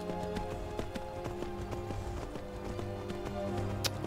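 Horse hooves in the Skyrim video game: steady clip-clop footfalls at a running pace, clear and close, over a continuous game music and ambient background.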